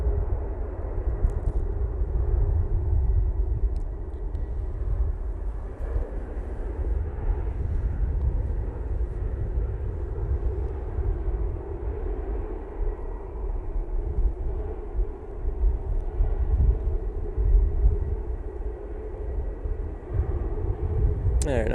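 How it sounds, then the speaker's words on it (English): Icelandair Boeing 737 MAX 9 in toothpaste livery touching down at Manchester Airport, a distant low jet rumble sustained steadily throughout while someone talks over it. "Iceland Air now touching down. Using the 737 MAX 9 and the toothpaste livery."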